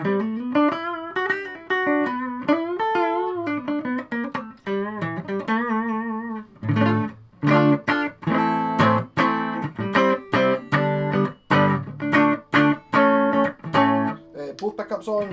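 A G&L ASAT Junior electric guitar played on its neck pickup rings out with a run of single notes, then rhythmic strummed chords with short pauses, clear and close.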